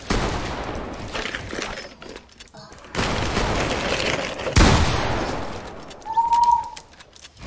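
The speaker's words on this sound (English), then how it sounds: "Who the frick is shooting me?" Video game gunfire rattles in bursts of sharp shots, fairly close, mixed with game ambience and a short tonal whistle near the end.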